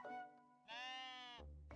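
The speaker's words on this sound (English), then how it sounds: "You can pet the sheep, by the way." A sheep in the cozy building game Tiny Glade bleats twice, a short call followed by a longer, wavering baa, faint and close with no speech.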